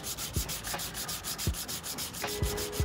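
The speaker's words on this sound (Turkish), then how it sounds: "Macunun kusurlarını zımpara ile düzeltip ne durumda olduğuna bakalım." Rhythmic back-and-forth sanding, sandpaper rasping over hardened steel body filler in steady strokes, close and continuous with occasional soft knocks.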